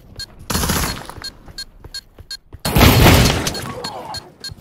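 Two loud bursts of sawed-off shotgun fire in a video game round, each a heavy roaring blast, separated by sharp ticking game sounds and clicks.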